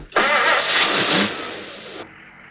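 An old vehicle's engine cranks and bursts into a loud, rough start close by, roars for about two seconds, then drops to a quieter, steady idle.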